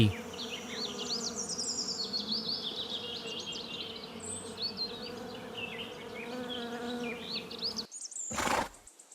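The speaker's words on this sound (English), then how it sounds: "bee" A bee buzzes in a continuous, wavering drone up close, with faint bird chirps behind it, ending in a brief sharp knock.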